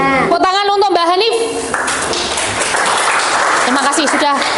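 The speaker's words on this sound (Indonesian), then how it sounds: "Tepuk tangan untuk Mbak Hanif." Classroom applause during a guidance lesson: a voice speaks first, then students clap in a brief dense burst before more talking returns near the end.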